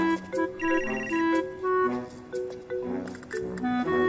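A melodic phone ringtone plays for about four seconds, with bright repeating chiming notes in a steady phrase and no talk over it.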